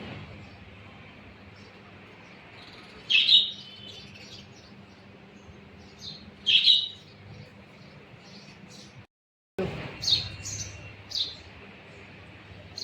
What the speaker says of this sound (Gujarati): બેઠો છે પોપટ અંદર